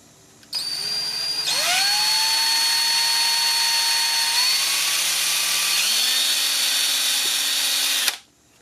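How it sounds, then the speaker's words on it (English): A power drill whirs steadily for several seconds, its pitch shifting slightly as it bites, starting and stopping abruptly, close and loud. "What I'm going to do here is I'm going to drill a hole in the center."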